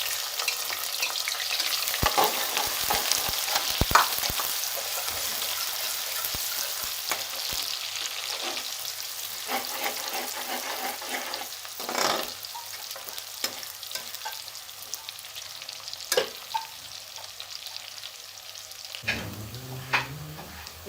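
Three small onions sizzle in ghee in a pan for an aloo anday curry, a loud, steady frying hiss broken by occasional stirring clatters and scrapes, close up with no talking.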